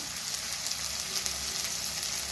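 Green chilies and turmeric powder frying in hot oil for pasta give a steady, close crackling sizzle, even and continuous with no voices.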